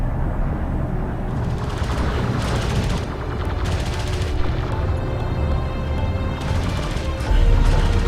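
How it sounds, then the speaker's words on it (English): Vehicles come under sustained gunfire in the Homeworld: Deserts of Kharak strategy game, with dense crackling bursts and booms running continuously over a rumbling battle bed. "Light attack vehicle is under fire."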